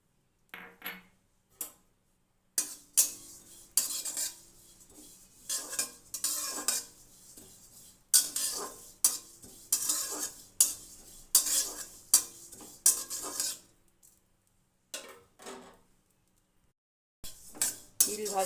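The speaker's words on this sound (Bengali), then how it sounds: "এবার তিলগুলো ভেজে নেব" Sesame seeds fry in a wok while a utensil stirs and scrapes them in short, uneven bursts of rattling and clinking, close up, with brief pauses between the stirring strokes.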